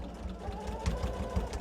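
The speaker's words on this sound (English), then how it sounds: "move my machine over, or my computer over slightly to get to my sewing machine" A home sewing machine stitches fabric for Halloween stuffed toys, running in a steady rapid chatter with small pulses of the needle, close and fairly loud, with no talking over it.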